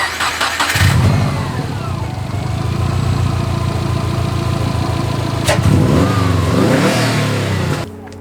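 Cheap Subaru WRX engine cranking and catching, then settling into a loud rumbling idle with a sharp rev blip partway through and another rev before cutting off, close and without talk.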